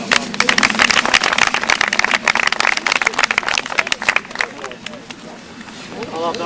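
Spectators at an outdoor birds of prey display at Dunrobin Castle clapping, a brisk burst of applause that tapers off after about four seconds as a voice begins speaking.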